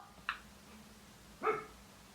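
A dog indoors gives two brief, fairly faint barks or yips about a second apart against quiet room tone, the second drawn out slightly like a whine.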